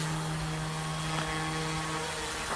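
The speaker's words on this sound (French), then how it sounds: "c'est un petit hélico" An Amewi Bell 222 Airwolf RC model helicopter hovers nearby, a steady buzzing rotor whine with a constant hum and a couple of brief swells, no talk.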